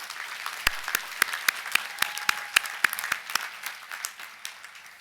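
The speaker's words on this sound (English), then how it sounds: "please let's join in a round of applause for her service to Hood." A modest crowd at a college commencement ceremony claps in sparse, distinct hand claps over a light background of applause, individual sharp claps standing out irregularly across the clip.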